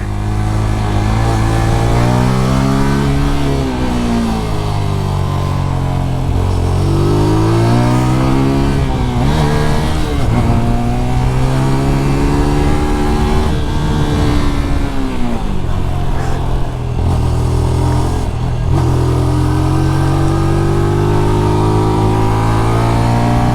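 A MITT GP 125 motorcycle engine revs hard and continuously through a ride, its pitch climbing and dropping with each gear change and throttle roll, loud and close throughout with no talk.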